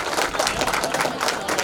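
An audience at a school batch reunion gathering claps in a dense, steady burst of applause that lasts the whole moment, loud and close, with no clear speech over it.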